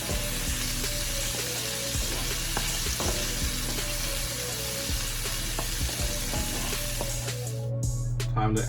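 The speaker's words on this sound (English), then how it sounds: "We're going to cook our shrimp for just 1 minute." Shrimp fry in a hot pan for egg rolls, giving a steady, even sizzle with soft periodic clicks and scrapes throughout.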